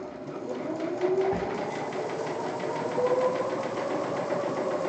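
A sewing machine stitches a puff-painted suit in a rapid, even mechanical whir, with a brief sharp knock near the start as the needle strikes a pin.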